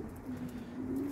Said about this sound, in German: Bei den Tauben.